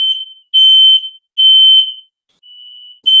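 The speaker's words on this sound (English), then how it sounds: "Sorry, my fire alarm is going off." A household fire alarm sounds in loud, shrill electronic beeps, several close together, then a fainter tone, then another beep starting, all clear and close with nothing else heard.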